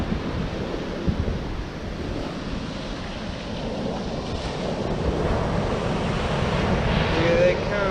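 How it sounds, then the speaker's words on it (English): Ocean surf rolls in as a steady, broadband roar mixed with wind buffeting the microphone, swelling slightly louder toward the end, where a brief voice is heard. "I know you can hear the waves."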